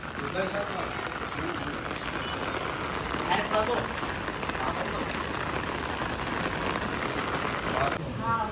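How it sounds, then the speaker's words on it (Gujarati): Steady monsoon rain in Surat patters on surfaces for the whole stretch, a continuous wash of drops with faint voices in the background. "વરસાદ સતત ચાલુ જ છે"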